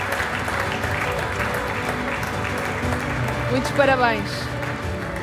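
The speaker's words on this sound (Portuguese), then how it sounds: "Um aplauso, por favor, a Patrícia Pinto e a Inês Espírito Santo Isqueté." Audience applause at the Bolsa Amélia de Mello 2026 award ceremony at CCB, honouring honourable-mention winners; steady clapping fills the room while a voice speaks over it, with a brief louder swell near the end.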